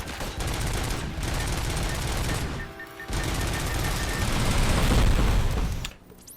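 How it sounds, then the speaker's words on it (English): ED-209 missile barrage in Robocop: Rogue City, a dense sustained roar of rapid launches and blasts, loud and continuous, briefly dipping before surging again and cutting off near the end. "So many damn missiles!"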